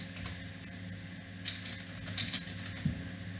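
Numbers being typed on a computer keyboard while a C program runs: a handful of soft, scattered key clicks with brief clustered bursts, faint and close against a quiet background hum, with no talking.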